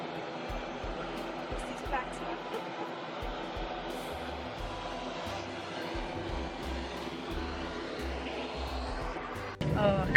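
A steady, low engine drone fills the cabin of a semi-modern passenger plane, heard from inside at moderate level, with voices talking over it throughout and a sudden louder burst at the end.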